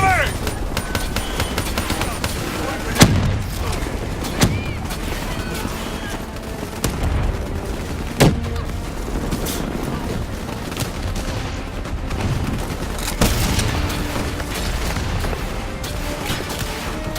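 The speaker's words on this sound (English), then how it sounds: "Brace for impact. Javelin missiles inbound. Incoming!" Rapid gunfire and heavy missile impacts from Call of Duty: Black Ops III fill a loud, dense battle mix, with sharp bursts punctuating continuous shooting and shouted voices throughout.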